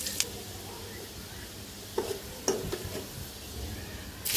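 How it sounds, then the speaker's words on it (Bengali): Garlic, onion and dried chili fry in hot oil as a tempering for kolmi greens, giving a steady low sizzle with a few sharp utensil clinks and stirring scrapes. "এগুলো ভাজা হয়ে গেলে শাকটা এটার মধ্যে ঢেলে দিব"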